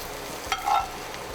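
Carrots and onions fry in a small frying pan with a steady, close sizzle, and a brief stir or scrape briefly louder in the middle.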